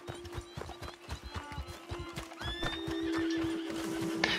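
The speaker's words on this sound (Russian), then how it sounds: "Конь!" A horse in the Red Dead Redemption 2 video game, steady clip-clop hoofbeats with a loud, drawn-out neigh rising near the end, over a game soundscape.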